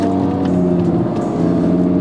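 Audi R8 V10 Spyder with manual gearbox and a non-standard exhaust, its engine droning steadily and loudly through the pipes at close range, a continuous throaty hum without pauses or voices.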